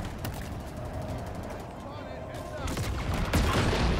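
Gunfire in the Halo Infinite campaign finale comes from enemy snipers and a turret, heard as dense, fairly quiet bursts of shots and blasts that grow louder toward the end.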